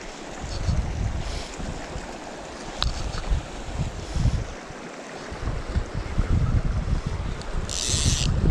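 Steady gusty wind buffets the microphone outdoors at a trout fishing spot on a hike at Cooleman, NSW, a loud continuous low roar that swells and eases across the whole stretch with no voices.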